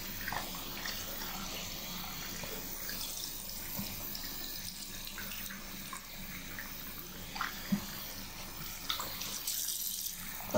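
Hot water runs from a tap while a floral cross-stitch embroidery is rinsed, a fairly faint, steady trickle broken by small splashes and a few clatters of handling.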